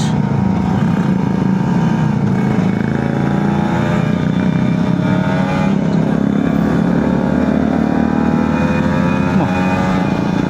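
A big touring motorcycle climbing uphill on a mountain road carries a loud, steady engine drone under load, with heavy wind rush throughout and no talking.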